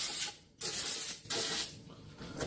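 Brake cleaner sprays from an aerosol can while a 2001 Jeep TJ is being worked on, in a few loud hissing bursts separated by brief pauses, close and alone.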